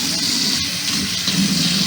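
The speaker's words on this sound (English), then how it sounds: "Does the faucet run?" Water runs steadily from a faucet in a beach accommodation, a short close hiss of flowing water with no speech over it.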